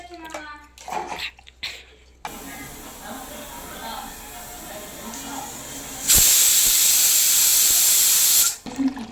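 A pressure cooker cooking mutton lets out a loud, sustained hiss of steam that holds for a couple of seconds before cutting off, following quieter kitchen noises.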